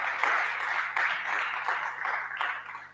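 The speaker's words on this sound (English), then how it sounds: "Let's clap for him" An audience at a university innovation pitch competition claps steadily for a student contestant taking the stage, a continuous wash of hand claps at moderate level with no talking.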